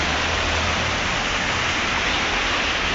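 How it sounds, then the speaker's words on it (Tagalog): Heavy rain falling steadily during a flood in Jeddah, a dense, even hiss of downpour that fills the whole stretch, close and loud with no pauses. "It's raining."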